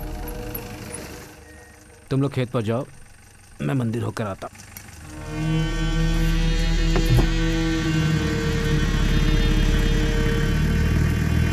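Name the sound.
car stopping and idling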